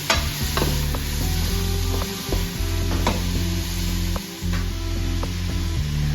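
Onions, garlic and large ginger pieces frying for mutton mandi, a loud bubbling sizzle broken by repeated stirring scrapes and clanks, with no talk.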